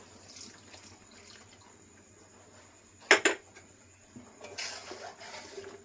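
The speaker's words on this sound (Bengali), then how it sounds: "আর একটু জল দিয়ে দেবো।" Water pours into milk in a kitchen bowl while making mango pudding, a soft, brief splash and trickle heard faintly over quiet background hiss.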